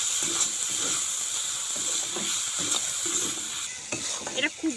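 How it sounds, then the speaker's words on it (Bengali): Vegetables stir-fried in a pan with salt and turmeric for chira pulao, a steady close sizzle with rhythmic scraping stirs throughout and a few sharper clinks near the end. "বন্ধুরা সবজিটাকে ঠিক এইভাবে কিন্তু ভাজবো যাতে খুব ভালো সেদ্ধ হয়।"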